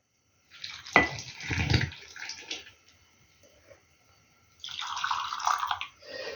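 Liquid is poured into a jar of a pickled vegetable assortment in two bursts of splashing, trickling pour, the first with a sharp clink at the start, separated by a short quiet pause.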